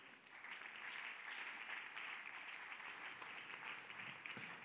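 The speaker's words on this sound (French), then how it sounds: "Est-ce que tu peux acclamer le Seigneur?" Congregation applauding to acclaim the Lord in a church service, a sustained, even wash of many hands clapping at moderate distance for several seconds.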